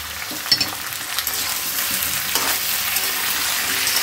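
Shola kochu, potato and shrimp fry in a hot kadai, a loud steady sizzle with occasional stirring clicks and scrapes, close up and with no talking.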